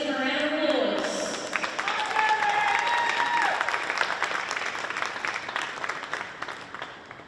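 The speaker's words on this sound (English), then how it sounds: "Let's give them a round of applause." A crowd at the 2023 Phil Hall Cup grand final applauds the Queensland Schoolboy Cup champions, St Patrick's College v Palm Beach Currumbin. Sustained clapping swells under an amplified announcer's voice, then slowly fades.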